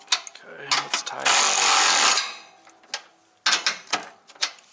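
A Husky 3/8-inch cordless ratchet runs in a short whirring burst while tightening, set among clicks, clanks and brief knocks of handling, with a person speaking nearby.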